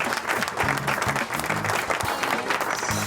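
An audience applauds a live-show host as he is introduced, dense clapping mixed with crowd cheers and voices, loud and close throughout.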